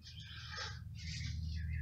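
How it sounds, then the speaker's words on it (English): Birds chirp and twitter in short bright bursts over a steady low hum from pool equipment below a deck. "At least we got some nice bird chirping."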